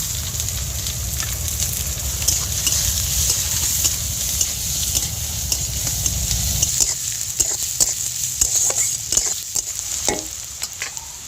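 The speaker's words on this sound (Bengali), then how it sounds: "2টো তেজপাতা দিয়ে দেব, 3টে পেঁয়াজ এইভাবে কুচি করে নিয়েছি, সবটা দিয়ে দেব।" Chopped onions, bay leaves and whole cumin frying in oil in a pan make a loud, dense sizzle. The sizzle thins partway through and gives way to scattered crackles and the clicks of stirring.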